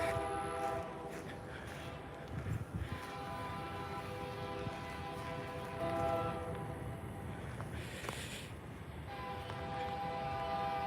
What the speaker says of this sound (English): I heard his horn and I'm like, holy smokes.